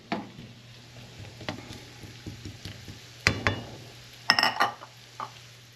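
Soft continuous sizzling in a frying pan while a breakfast casserole ingredient is browned, punctuated by several sharp clinks and scrapes of a utensil against the pan, moderately quiet and close.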